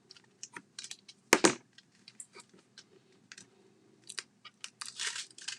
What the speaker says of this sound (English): take your tape strips off